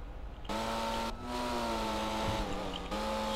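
Engine of a Porsche GT2 sports car in the video game GTA 5 droning steadily as it accelerates, with a sustained loud tone that shifts pitch at brief gaps like gear changes.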